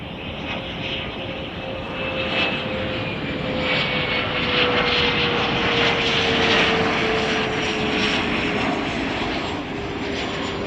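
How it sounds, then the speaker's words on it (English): A LOT Polish Airlines airliner taxiing at Chicago O'Hare, a steady broad engine roar with a faint whining tone slowly sliding, heard from a distance and unchanging for the whole stretch. "Polish Airlines is going to be taxiing down to the international terminal so that passengers can deplane."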